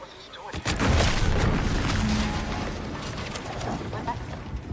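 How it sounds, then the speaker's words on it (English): A sudden loud blast in The Outer Worlds 2, a sharp boom followed by sustained rumbling and debris-like crackle that slowly fades, with a voice speaking over it. "An explosion?"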